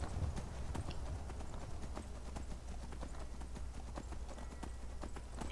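Horse hooves clip-clop in a steady, rhythmic gait as a rider heads down toward the East Empire Company docks in Skyrim, the clear close footfalls repeating over a low hum of game ambience.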